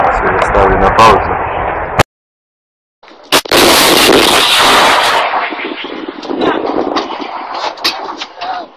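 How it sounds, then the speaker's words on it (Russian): Artillery guns of LNR militia firing during the Ukraine conflict: heavy, close blasts with sharp cracks and rumbling, a short silent gap, then a sustained roaring discharge that slowly fades, with voices audible around it. "Орудие! Выстрел!"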